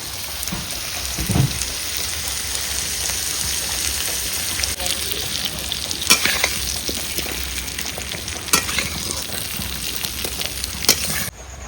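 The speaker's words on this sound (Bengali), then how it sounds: "জিরে লঙ্কা তেজপাতা সব দিয়ে দিলাম আমার তেল গরম হয়ে গেছে আমি এখন খিচুড়িতে দিয়ে দিলাম" Hot oil tempered with cumin, chilli and bay leaf poured into khichuri cooking with dal, potato, rice and turmeric, giving a steady close sizzle and crackle with a few sharp spattering pops throughout.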